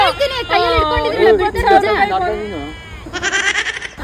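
Sheep bleat loudly and repeatedly amid a crowd of chattering voices, the wavering animal cries rising over the babble.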